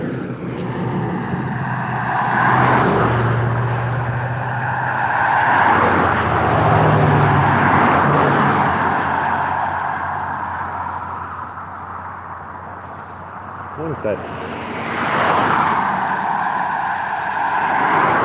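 A school bus passing on a road, a broad engine and tyre rush that swells and fades, with a second vehicle approaching near the end; brief speech is heard.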